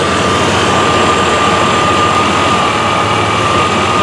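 A 1993 Chevrolet S10 Blazer 4x4 engine runs steadily at idle, a loud, continuous low rumble with a faint constant whine, no talking over it.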